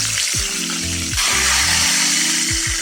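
Loud, steady sizzling of fish frying in hot oil for Filipino sarciadong isda, with a few sharp clanks and scrapes of a utensil against the pan.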